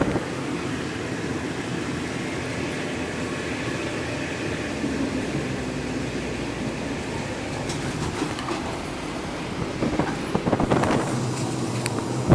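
Local train 426 rolls through rainy-season rice fields between Surin and Chakkarat, a steady rumbling interior drone with rattling and clanks growing louder near the end, no voices.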